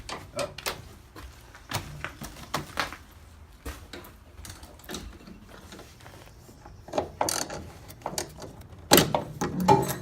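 Wrench turning a bolt to lock a part down, a series of close, irregular metallic clicks and ratcheting clanks with a louder clunk near the end, no talk.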